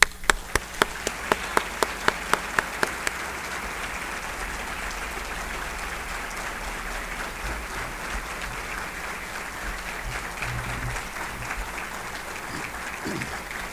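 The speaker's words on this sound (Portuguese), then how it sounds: "E mais do que isso, as nossas palmas." An audience in a city council chamber applauds during a formal ceremonial session honoring a pastor with honorary citizenship, opening with a few sharp distinct claps before swelling into sustained, dense clapping that carries on throughout.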